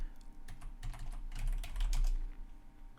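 Fast, steady typing on a computer keyboard, a dense run of close, crisp key clicks with slight bursts and pauses, heard alone with no voices.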